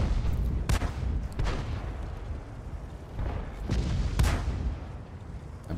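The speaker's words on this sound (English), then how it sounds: "There's a shot right in the lower plate of the 257." World of Tanks battle: deep, booming tank cannon shots, several heavy blasts spaced a second or two apart over a constant low rumble of engines and ambient noise.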